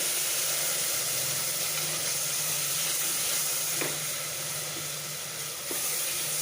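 Biryani masala mixed with curd sizzles steadily in a hot pan while being stirred, a constant broad hiss with faint scraping and a couple of sharp utensil clicks near the end, no voices.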